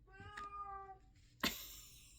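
A house cat lets out a couple of short meows close by, followed by a louder, sharper cry near the end, with quiet room tone between.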